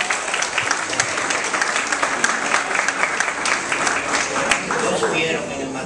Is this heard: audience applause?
yes